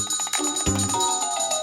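A small handbell shaken in a classroom setting gives a bright, ringing tone with repeated metallic strikes and a sustained shimmer, fairly close and clear.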